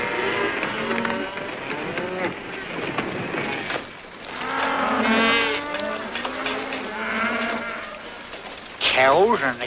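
Cattle steers low and moo repeatedly along a trail, several animals calling over each other at close range, with bleat-like cries mixed in.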